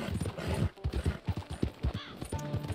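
Horse hooves clip-clop in a quick, steady rhythm with a neigh near the end, from a horse in the video game Red Dead Redemption II; the sound is close and loud.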